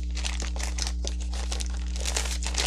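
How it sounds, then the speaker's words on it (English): A toy car casting is pulled out of a plastic bag, giving continuous close crinkling and rustling of plastic with sharp crackles throughout, steady and fairly loud over a low background hum, with no talk. "I'm taking it out of this plastic bag for now."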